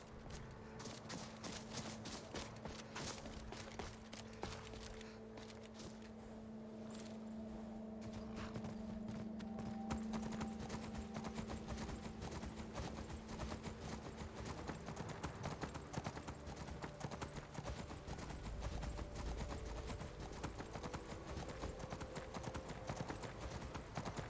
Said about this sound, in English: I'm glad that I can take my horse up here